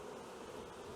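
Honeybees hum softly and continuously on a queen rearing frame, a faint, even drone close by with no talking.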